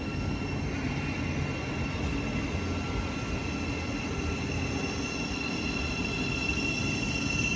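A Class 700 electric multiple unit slows into Alexandra Palace station on the East Coast Main Line. It gives a steady, even rumble of rolling stock with a faint high motor whine, constant throughout, with no voices.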